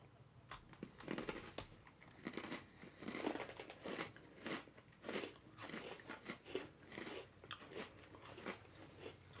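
Crunchy cookies are bitten and chewed up close, giving a steady run of crisp crunches and munching sounds with no talk over them.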